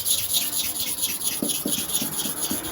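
A hair clipper blade rubbed back and forth on a super hard manual sharpening stone, a rapid rhythmic gritty scraping that is close and fairly quiet, with no voices.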